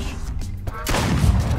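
A gunshot aimed at the dog in the Duck Season video game: a burst of broadband noise that sets in sharply partway through and holds fairly loud to the end, after a stretch of low rumble.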